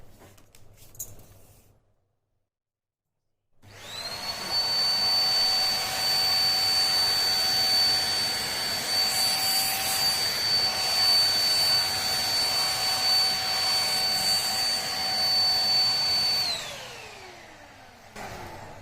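A small handheld vacuum cleaner whirs steadily at close range with a high-pitched motor whine while cleaning a laptop, starting after a brief pause and then winding down at the end.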